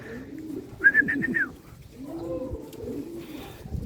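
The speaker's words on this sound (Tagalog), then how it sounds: "Nagpapakain ako, biglang dumating yung first bird." Pigeon cooing at close range during feeding, a quick burst of four or five bright coos followed by softer, lower cooing and rustling in a quiet setting.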